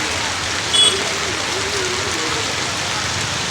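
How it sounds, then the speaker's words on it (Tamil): Floodwater rushes steadily through a flooded village market, a broad continuous wash of flowing water that stays even and fairly loud, with a brief bump partway through. "இவ்வளோ தண்ணி போகுது இதில் பாருங்க."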